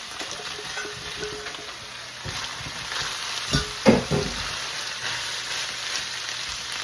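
Broccoli fries in a hot pan with a close, bright sizzle. Stirring scrapes and clatters, including a louder cluster of knocks near the middle, and nobody speaks.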